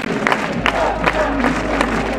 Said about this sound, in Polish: Wielkie brawa dla naszych, kochani.